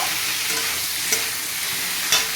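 Potatoes and tomatoes sauté in a hot pan with a continuous close sizzle, broken by a few soft scraping stirs and no talking.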